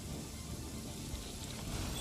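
Steady, even rainfall hiss in the game Genshin Impact, a constant soft wash of drops with a low rumble beneath, unbroken and fairly quiet throughout.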